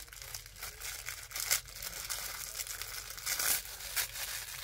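Pink tissue paper crinkles and rustles as a birthday gift is unwrapped up close, soft crackling bursts rising and falling in irregular handling movements with no talk over it.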